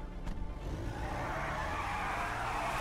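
Car accelerating in the video game GTA Online, a short burst of rising engine roar with tire noise building steadily and staying loud to the end.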